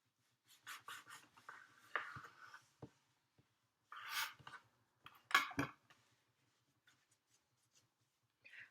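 A knife trims the sugar-free ends off rolled cinnamon bun dough in a quiet kitchen, giving short scraping, slicing strokes in a few bursts with gaps of near silence.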